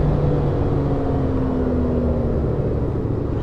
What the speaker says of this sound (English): Get a little bit of intake sound, a little bit of induction.